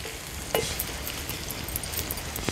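Onion sautéing in a pan for an Agri-Koli style dried-prawn tawa masala gives a steady, close sizzle, with a sharp stir or spatula clatter near the start and light scraping after it.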